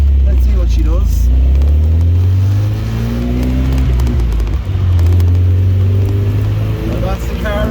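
A 1978 MGB Roadster engine runs steadily and rises into revs, a loud close drone with people talking over it.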